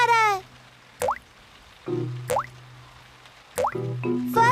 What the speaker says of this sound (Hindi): बारिश का पानी घर के अंदर आ रहा है